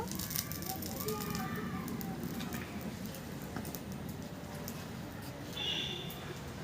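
Oil sizzles and crackles in a pan where bhetki fish bones are being fried, a steady dense spitting hiss at close range with a brief brighter flare near the end.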